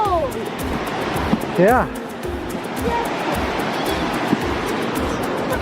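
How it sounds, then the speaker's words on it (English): River flowing beneath a footbridge on a hike in Olympic National Park's Enchanted Valley, a constant broad rushing roar with wind buffeting the microphone, while people speak briefly over it. "we'll see if we can get some of the river underneath of us"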